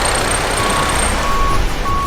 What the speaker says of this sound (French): si on rajoute du bruit de chantier avec des camions qui reculent